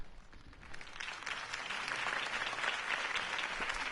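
Crowd applause following a political campaign speech in the Telltale Batman video game, a steady wash of clapping that swells slightly and holds at a fairly loud level for several seconds with no talking.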